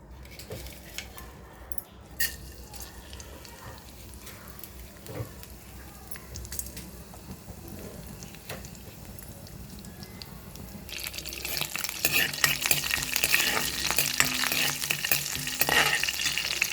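Mustard tempering seeds and carrot pieces sizzle in hot oil in a kadai; the frying starts quiet, then swells into a loud, dense crackle during the last few seconds.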